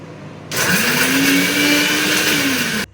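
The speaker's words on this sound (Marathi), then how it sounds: "मी लसूण घेतलं आहे आणि सुकं खोबरं घेतलं, कोथिंबीर घेतली, व्यवस्थित बारीक ग्राइंड केलं" A kitchen mixer grinder whirs loudly and steadily, grinding garlic, dry coconut and coriander for masala; it starts abruptly after a quiet half-second, holds a droning motor pitch, then cuts off near the end.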